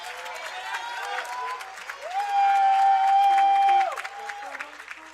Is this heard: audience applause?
yes